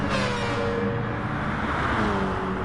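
Racing car engine approaching to overtake traffic at Monza in a sim racing game, a steady loud engine drone rising slightly in pitch, heard up close with no talking.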